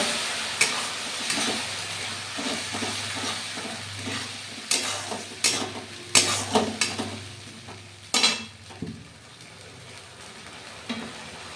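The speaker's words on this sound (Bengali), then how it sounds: "চার চামচ টমেটো পেস্টটা দিয়ে আবারও ভালোভাবে এটা আমি কুক করে নিচ্ছি মশলাটা খুব ভালোভাবে কষিয়ে নেব" Masala with four spoons of tomato paste frying for Bengali katla fish curry, with steady sizzling and repeated scraping, clattering stir strokes of a spatula against the pan, close and clear with no talking.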